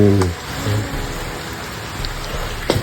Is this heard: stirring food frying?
no